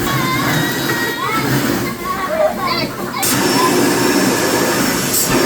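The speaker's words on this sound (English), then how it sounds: "Tug-of-war challenge to see which Hoover is stronger." Two Henry vacuum cleaners, a Henry XL Plus and an HVR160, running together in a tug-of-war strength test, giving a loud steady whirring drone throughout with faint voices and brief noises over it.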